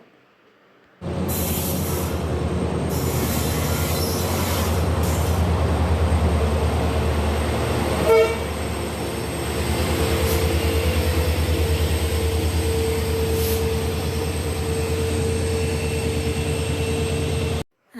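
A train rolls into a railway station, a loud, steady rumble and rhythmic clatter of wheels that starts abruptly and holds for about sixteen seconds with one brief louder clank near the middle, then cuts off.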